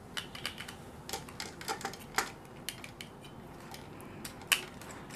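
Screws being fitted into a switch board connection give small sparse metallic clicks and taps, quiet and close, scattered irregularly with no talking.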